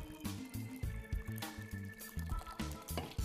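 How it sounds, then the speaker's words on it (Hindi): Water is poured into a second vessel to wash chenna for soft rasgulla, a close gurgling, splashing pour in uneven bursts with liquid sloshing in the pot. "पानी फिर से इसमें डाल रहे हैं"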